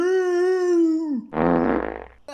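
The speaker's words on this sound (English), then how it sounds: "But also, cows fart." A cartoonish fart sound effect, beginning with a long buzzy tone and ending in a short rippling blurt, loud and close with no talking.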